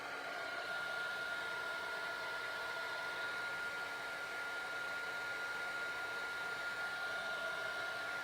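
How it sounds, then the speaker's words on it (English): A heat tool blows steadily while drying alcohol ink on plastic Yupo paper, a constant close whirring hiss with no pauses and no talking. "you can also move the ink a little bit as you're drying it with the heat tool as well"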